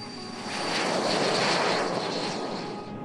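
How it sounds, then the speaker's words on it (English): An L-39 Albatross jet trainer in flight at about 3,000 feet, a steady loud broadband engine roar that swells and holds, then eases slightly at the end, with no talk. "This aircraft, it's an L-39 Albatross."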